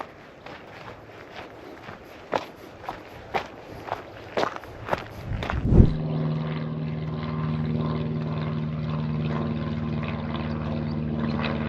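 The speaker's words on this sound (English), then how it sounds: "So I kept hearing small planes all throughout my hike" A steady engine drone with a propeller hum from a small plane flying overhead sets in and holds, following a run of crunching footsteps on a trail in Bastrop State Park, Texas.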